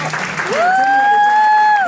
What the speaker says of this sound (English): let's start off by first of all giving Michael a round of applause.